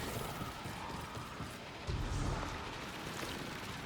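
Door mechanism opening in Destiny, a quiet grinding and ratcheting of gears with a low heavy thump as the door shifts, set against soft ambient rumble.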